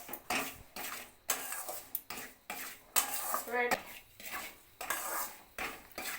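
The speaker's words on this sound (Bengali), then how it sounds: "সুজিটা আমার হালকা ভাজা হয়ে গেছে" A metal spoon scrapes and clatters against a pan in repeated stirring strokes while roasting semolina, close and fairly quiet, with brief pauses between bursts.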